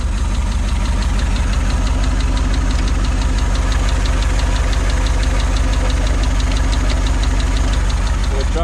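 An old 1948 Pontiac Streamliner Deluxe engine idles roughly and loudly up close, with a steady rapid knocking chug and a breathy puffing from blow-by throughout.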